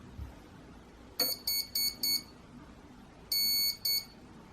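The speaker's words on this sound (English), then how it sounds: "we heard 4 beeps for the 4S battery that I've just plugged in" Electronic speed controller on a drone, powered on a bench with a 4S battery, gives a run of four short, evenly spaced high-pitched startup beeps, then a pause and a second set of beeps, clear and alone over faint background hiss.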